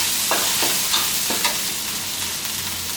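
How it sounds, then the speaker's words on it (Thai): Curry paste stir-fried in a hot pan for a Thai spicy catfish stir-fry, giving a steady close sizzle broken by a few scraping stirs of the spatula, with no voices. "ผัดให้เครื่องแกงหอมเลยนะครับ"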